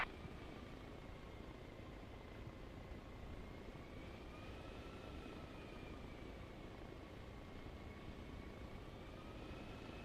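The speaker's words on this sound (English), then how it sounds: "I don't know why my helicopter's been like quieter" A steady, droning rotor and engine hum with a faint whine holds at an even level throughout, a helicopter flying in the game Arma Reforger, with no talk.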